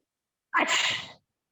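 One person gives a single forceful, open-mouthed sneeze during a yoga breathing exercise. It is a short, close burst that trails off quickly into silence.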